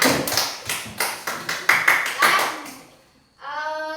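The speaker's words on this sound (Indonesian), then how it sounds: "Kita berikan tepuk tangan untuk kelompok 2" Rapid, close hand claps from a small group applauding a children's group performance, coming in loud rhythmic bursts that fade out, followed by a voice speaking.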